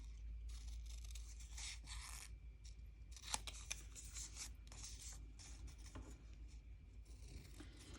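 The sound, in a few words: scissors snipping ribbon ends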